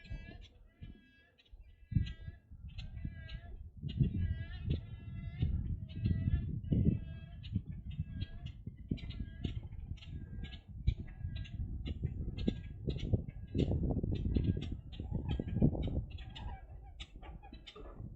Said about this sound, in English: Now I got some smaller birds over here making a little bit of chirping noises and stuff.